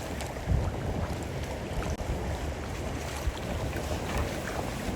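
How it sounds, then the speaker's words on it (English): Steady, rushing wind buffets the microphone in a small town square in Croatia, with low gusty rumbles throughout and no clear voices. "It is so windy today"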